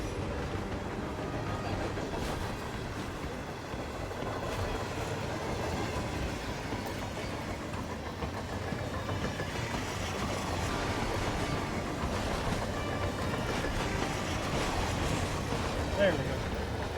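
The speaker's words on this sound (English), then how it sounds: "Oh, we're on a train." Train rolling on rails in the Hitman 3 video game, a steady loud rumble with faint rhythmic clatter running the whole time, with talk over it.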